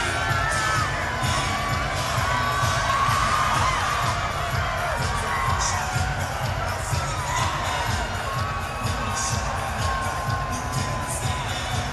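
Loud arena crowd at a men's Division I national championship volleyball match, Loyola Chicago versus Wisconsin, cheering, shouting and whooping continuously during a timeout, a dense sustained roar with scattered high yells.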